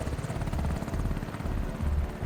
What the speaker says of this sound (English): The Navy uses the MH-53E Sea Dragon.